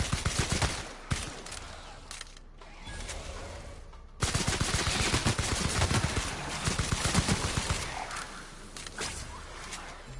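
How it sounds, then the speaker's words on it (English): Rapid assault rifle fire in The Outer Worlds, dense bursts of shots peppering enemies, loud and close, with a brief pause before the barrage resumes and keeps going steadily. "So we'll switch over to the assault rifle and start peppering them."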